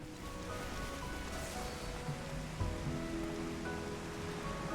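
Heavy in-game rainfall in Final Fantasy XIV Online: Heavensward, a steady dense patter of pouring rain with a low rumbling bed and a few faint tonal game sounds mixed in, continuous for the whole stretch.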